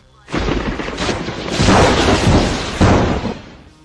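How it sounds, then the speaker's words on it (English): A Heaven and Hell Lightning Strike attack in a sparring match lands as a heavy thunderous crackling blast with several booming surges, loud and close, rolling on for about three seconds. "Heaven and Hell Lightning Strike"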